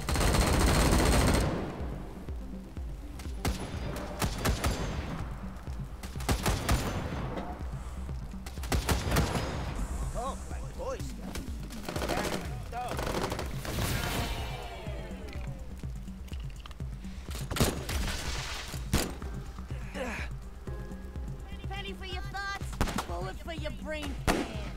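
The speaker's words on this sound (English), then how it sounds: "Good, they're wasting all their shots on the turret." Gunfire in Wasteland 3 aimed at a turret: loud volleys of automatic shots and single cracks come in repeated bursts over about twenty-five seconds, mixed with other combat sounds.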